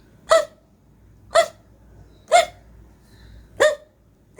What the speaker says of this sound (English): Hiccup! Oh no! Pete has the hiccups.